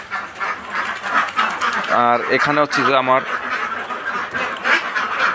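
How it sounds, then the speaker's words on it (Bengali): Ducks on a fish farm pond give a short burst of several quacks near the middle, heard under someone talking steadily against outdoor background noise. "হাঁস যেগুলো পানিতে আছে সেগুলো,"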